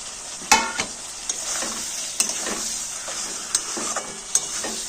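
Cut onion in large pieces, tomato and green chili stirred into hot oil and fried spice masala in a pan for a prawn and potato curry, with a steady close sizzle and a few sharp spatula scrapes and clinks.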